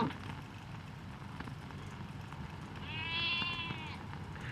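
Sheep bleat faintly in the distance on rough Icelandic pasture over a steady low rumble, a few wavering calls rising near the end.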